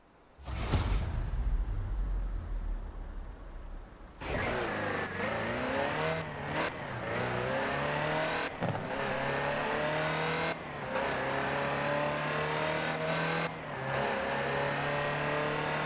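Land Rover Series utility vehicle in the Forza Horizon 4 racing game, its engine revving hard and then pulling through several gear changes with steady rising drone, loud and close, after a brief whoosh at the start.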